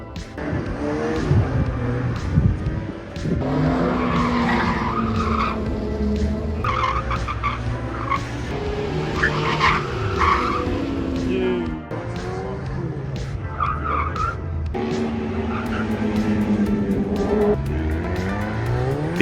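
A turbocharged Fiat X1/9 circles on a driver training course, its tires squealing in long wavering screeches over a straining engine that rises and falls for about twenty seconds, loud and close.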